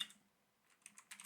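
Typing on a computer keyboard at a desk: a faint, close patter of a few light keystrokes, a short pause, then a quicker burst of clicks, alone with no voices.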